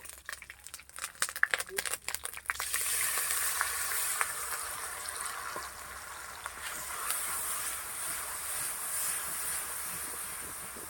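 Chilli powder paste hits a frying pan with a sudden loud hiss that settles into a steady, crackling sizzle, after a few seconds of quieter scraping and handling.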